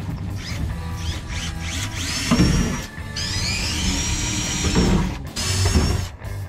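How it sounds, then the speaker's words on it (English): Power drill boring holes through thin sheet metal to mount a roll bar on a half-caged vehicle build, whining in rising and falling bursts with brief pauses, close and loud. "Now it's time to drill some holes."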